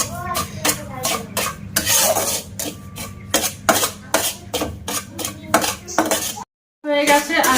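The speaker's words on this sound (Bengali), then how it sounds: "এই সুজিটা প্রথমে আমি শুকনো কড়াইতে দিয়ে আমি ভাজা করে নেব" Semolina dry-roasting in a hot kadai, stirred with a metal spoon that scrapes and clanks against the pan in a steady rhythm, loud and close, with a brief pause near the end.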